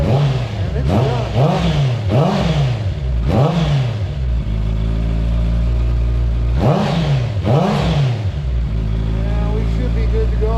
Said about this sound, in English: Let you hear my aftermarket exhaust a little bit